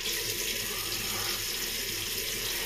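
A tap runs steadily into a sink to wet the skin before a shave, a constant close hiss of flowing water with no talking.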